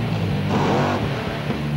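A Monster Jam monster truck engine roars loud and close, its throttle swelling to a broad rev and easing off again over a couple of seconds.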